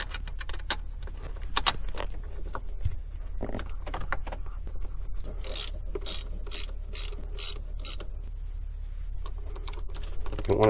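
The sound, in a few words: bolt being started and tightened on car water neck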